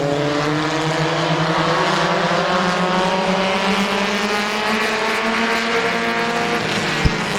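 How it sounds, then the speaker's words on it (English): A field of race cars roars off together at the green flag of an 8-lap heat race at Midvale Speedway, engines loud and layered with rising pitches, and a brief sharp knock near the end. "Devono and Cole, green flag in the air, 8-lap heat race number 2."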